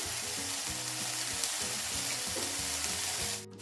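Minced meat frying in a little olive oil with curry, a loud dense close sizzle with stirring underneath, cutting off abruptly near the end.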